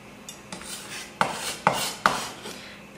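A utensil scrapes and clinks against a bowl while mixing ingredients with chunks of goat cheese for a steak dinner, with soft rubbing strokes and three sharper taps, quiet and close, without talk.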